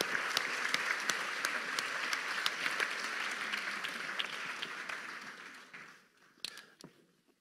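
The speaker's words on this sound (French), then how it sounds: "Je vais vous demander de les applaudir" An audience at a public talk applauds as students come onto the stage, a sustained wash of clapping at moderate level that fades out near the end, leaving a few scattered claps.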